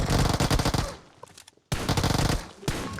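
Rapid automatic P90 submachine gun fire in PUBG Mobile, two loud dense bursts separated by a short pause, followed by a brief single shot near the end.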